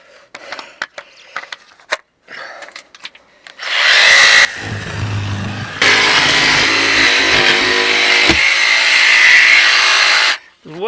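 A jigsaw cuts wood shuttering for annex footings, buzzing loud and close in two long runs with a short change of pitch between, after some scattered knocks and handling noise.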